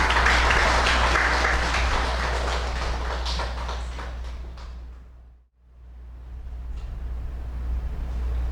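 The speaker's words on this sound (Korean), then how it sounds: "우리 박수로 티모시 선교사님 환영하겠습니다." A church congregation applauds to welcome a missionary during a Sunday family worship service. The broad clapping runs over a low steady hum, fades to near silence about two thirds through, then picks up again more softly.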